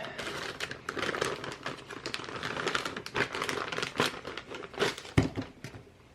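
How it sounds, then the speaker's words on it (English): A plastic zipper lock bag holding an electric motorbike controller crinkles and rustles close by in irregular bursts as it is handled and squeezed, with no talking. "It's in a zipper lock bag."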